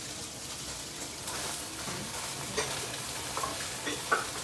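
Shrimp pan-fry in oil until crispy on both sides, giving a close, steady sizzle and crackle with occasional spatters and utensil scrapes and no talking.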